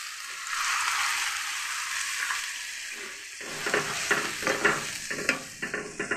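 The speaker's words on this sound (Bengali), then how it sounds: "এখন আমি কিছুটা জল দিয়ে দিচ্ছি।" Water poured onto spice paste frying for a mustard fish curry sets off a loud, rushing hiss that fades over a few seconds, followed by close scraping and clattering stirring against the pan.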